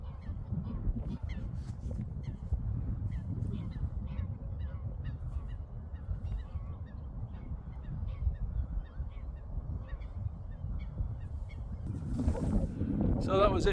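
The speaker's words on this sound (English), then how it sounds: "There's a lot of geese over there" Geese near water honk in repeated calls at a moderate distance over a low, constant outdoor rumble, with a louder burst of activity near the end.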